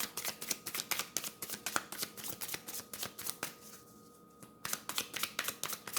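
Tarot cards are shuffled nearby in quick, rhythmic riffles and flicks, quiet and steady, with one short pause before the shuffling picks up again, and no one speaks.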